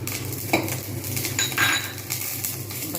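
Dried red chillies are stirred in hot oil in a pan, a soft sizzle under clinks and scrapes of a metal spoon against the pan, close and fairly even.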